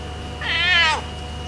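A single close cat meow in Bali, drawn out and plaintive, lasting about half a second against a low steady hum.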